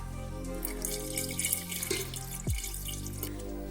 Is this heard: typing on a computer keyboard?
no